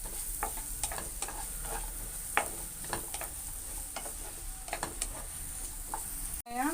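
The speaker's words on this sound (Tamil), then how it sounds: "வெங்காயம் நல்லா வதங்கட்டும்" Onions sauté in melted butter for paneer butter masala, a steady soft sizzle with frequent quick scraping stirs and small ticks of a spoon against the pan.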